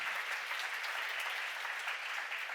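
Congregation applause at a church seminar, a steady dense wash of many hands clapping together, moderately loud and continuous throughout with no voices standing out.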